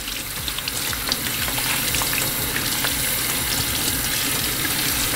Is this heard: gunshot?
no